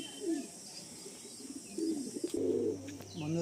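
Pigeons coo softly in a pigeon loft, giving several low, throaty rolling calls up close, with faint flutters and light chirps around them.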